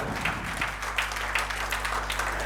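Continuous audience applause fills the clip, a dense wash of clapping at steady volume with a low droning hum running underneath.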